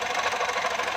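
Foton engine running with a noise problem, a steady, dense mechanical whirr and rattle droning loud and close with no pauses.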